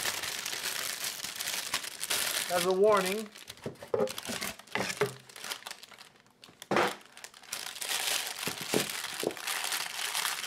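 A large plastic bag holding wood slices crinkles and rustles through most of the clip, with bursts of handling noise while a person speaks over it.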